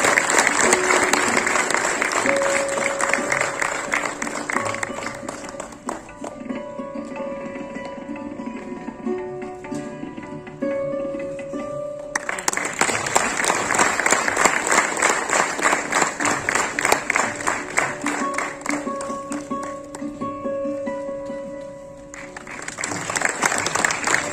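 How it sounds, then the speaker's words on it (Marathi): An audience at a lifetime achievement award ceremony for actor Mohan Joshi breaks into loud, sustained applause in two long waves, separated by a quieter stretch with tonal music-like sound. "अण्णांसाठी सुद्धा एकदम जोरदार टाळ्या झाल्या पाहिजे"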